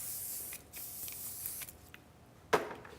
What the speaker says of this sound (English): just a little hairspray